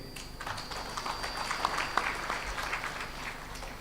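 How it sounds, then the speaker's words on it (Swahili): An audience in a hall claps steadily throughout at an engineering technician day event, a dense even patter of applause with no voices. "Makofi mengi kwa Arusha Tech na DIT."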